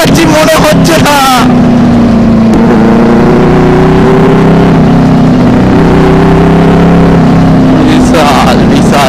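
A motorcycle fitted with an SC Project exhaust revs loudly and close by, its deep throaty drone holding steady and then swelling, with people talking and reacting over it.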